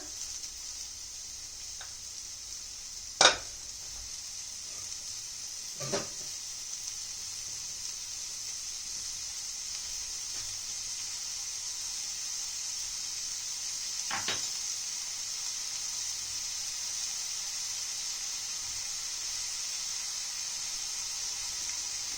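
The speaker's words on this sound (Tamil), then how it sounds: "இப்போ இதெல்லாத்தையும் நல்லா ஃப்ரை பண்ணி விட்டுருங்க" Onion and green chili fry in butter or oil for an egg biryani, giving a steady, even sizzle with a few sharp clinks of a utensil against the pan early on.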